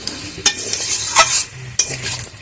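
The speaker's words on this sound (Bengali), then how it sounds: "কুমড়োটা সব কিছুর সাথে নাড়াচাড়া করে মিশিয়ে নেব" Fried pumpkin and potato with spices are stirred in a pan for a vegetarian chokka. A spatula scrapes and knocks in three or four strokes over a close, steady sizzle, with no talking.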